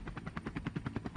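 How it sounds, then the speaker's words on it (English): A helicopter flies around in the background of a military helicopter video game, its rotor producing a fast, steady thumping pulse at moderate loudness with no talk over it. "The helicopter that you can also see flying around in the background"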